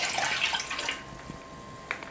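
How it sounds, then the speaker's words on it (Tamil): Milk for semiya payasam pours into a cooking vessel with a soft liquid rush, strongest at the start and tapering off, followed by faint drips and a small clink. "ஒரு பாத்திரத்தில் பால் சேர்த்துக்கிறேன்."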